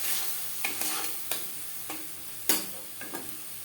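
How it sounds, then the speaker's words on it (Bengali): A spoon stirs spices into tomato paste with onion and garlic in a sizzling pan, giving several distinct scraping strokes and taps over a soft continuous fry, close up with no talking. "তিনটে টমেটোর পেস্ট আমি ব্যবহার করলাম পেঁয়াজ রসুনের সাথে মশলা বেশ ভালো করে মিক্স করে নেব"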